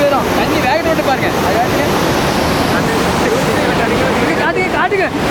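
Loud rushing flood water roars continuously at Courtallam, turbulent and close, with voices talking over it.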